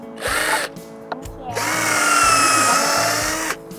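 A power drill pre-drilling wood for a kids' playhouse build, whirring in a short burst and then a longer steady run of about two seconds, loud and close.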